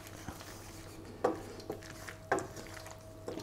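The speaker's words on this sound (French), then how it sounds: "On va mélanger." Drained macaroni is mixed with mushrooms in a pot, with a few distinct clinks and scrapes of a utensil against metal over a low background hum, close by and without speech.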